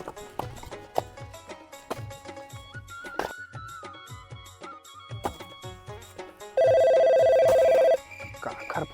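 A mobile phone rings in a village, playing a repeating electronic melody of short chimes that builds into a loud, sustained tone near the end, with no talking over it.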